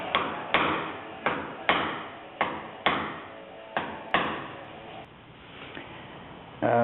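Hammer blows strike a 2x4 held against a 1962 Impala car door in an uneven series of about nine sharp knocks, each ringing briefly before the next, with a final thud at the end.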